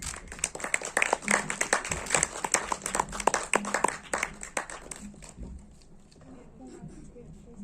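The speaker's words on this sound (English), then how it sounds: "Can I have a huge round of applause, please?" A crowd at a film festival screening in Goa claps briskly for about five seconds, the sharp clapping fading out into quiet room noise with faint talk.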